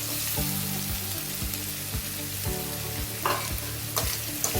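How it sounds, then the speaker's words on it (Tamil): Food sizzles and crackles steadily in a hot pan as bitter gourd is stirred into frying onions, a spoon scraping and stirring at regular intervals, no voices. "கட் பண்ணி வச்சுருக்கிற பாவக்காவை இதில் கலந்துடலாம்."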